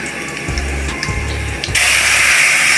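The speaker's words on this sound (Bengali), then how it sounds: "পেঁয়াজগুলো একটু লাল লাল করে ভেজে নিতে হবে" Onions fry in hot oil in a pot, giving a loud, close, continuous hiss that swells into a brighter, louder rush partway through, with low thumps early on and no speech.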